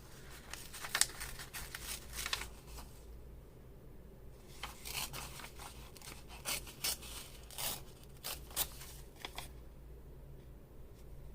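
A sheet of paper torn in half at a desk while journaling, with soft ripping and rustling bursts at close range in an otherwise quiet room.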